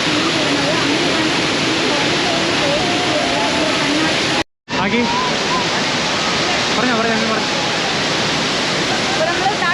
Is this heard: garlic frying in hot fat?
no